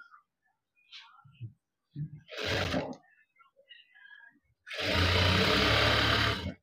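A sewing machine stitches fabric in two bursts, a short run and then a longer, steady, close whirring run, separated by quiet handling noises and faint speech.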